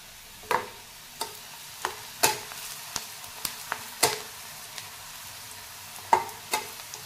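Onion fries in oil in a pan, a soft steady sizzle broken by a dozen sharp scraping clicks as a spoon stirs and lifts it, moderately close and without talk.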